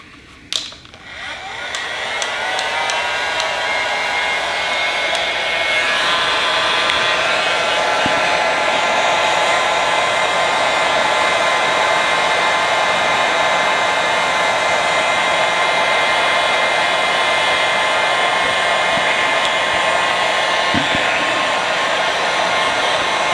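Heat gun blowing steady hot air to shrink heat shrink tubing over a butt-connector wire splice while fitting an LED tail light on a WR250R motorcycle; a continuous loud whooshing fan roar runs alone after a brief start.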